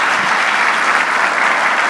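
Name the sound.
audience applause for a speaker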